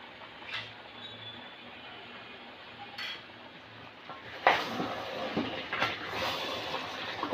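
A metal lid set down on a cooking pot of jackfruit and beef curry gives a couple of close clinks and clatters, with faint rattling of pot and utensils around it in an otherwise quiet kitchen.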